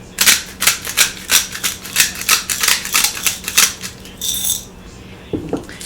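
A rapid clatter of roasted vegetables tumbling off parchment paper and knocking into a metal stock pot, repeated bursts for several seconds, then a softer scrape at the end.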